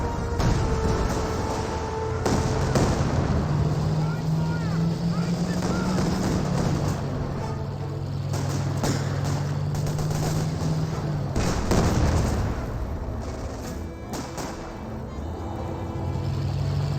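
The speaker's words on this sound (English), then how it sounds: "the Katyusha barrages are hitting the wrong region" Katyusha rocket artillery barrages in the Company of Heroes strategy game come as rattling bursts and rumbling impacts over a droning engine hum, with a dense ripple of hits near the end and a voice talking over them.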